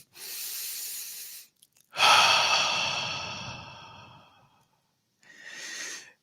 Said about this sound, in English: So let's take a deep breath. Another deep breath.